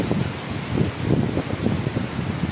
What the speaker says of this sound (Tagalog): At napakalakas ng hangin.